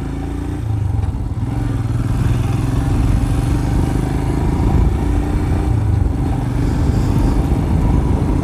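A motorcycle engine runs steadily after starting, a loud continuous mid-pitched rumble with mechanical clatter that holds close and constant throughout, with no talk over it.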